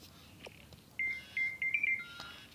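A phone ringtone for an incoming call: a short run of bright electronic beeping tones, clear and moderately loud over a quiet room, no talking.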